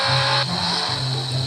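In a racing video game, a nearly wrecked race car drives fast with a loud, continuous engine drone whose pitch shifts slightly as it goes, close and steady with no speech.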